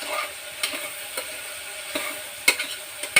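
A spoon stirring bitter gourd curry after tamarind and jaggery go in, several short scraping clicks at irregular intervals over a low sizzle, close and fairly quiet with no talking.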